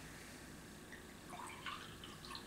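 Beer poured from a bottle into a glass, a faint, steady trickle and fizz at low volume that holds for a couple of seconds with a slight swell near the end.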